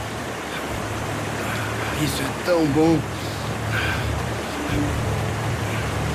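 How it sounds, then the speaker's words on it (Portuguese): A steady wash of running stream water in the video game GTA 5, continuous and fairly loud, with someone talking briefly over it. "Finalmente um pouco de água corrente."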